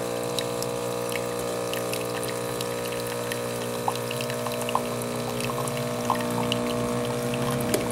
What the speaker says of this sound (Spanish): Entonces dejamos que salga un poco de agua.